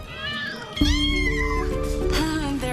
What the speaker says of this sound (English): Hope you like cats.